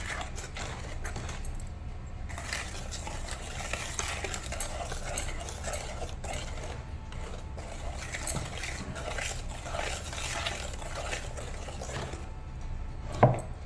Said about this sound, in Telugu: ఇలా ఒకే డైరెక్షన్లో మిక్స్ చేసుకోండి